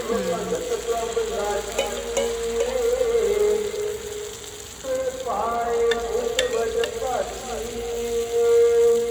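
Jaggery pooda batter poured into a hot pan and frying, a steady sizzle with scraping and stirring of a ladle, close by, while people talk over it.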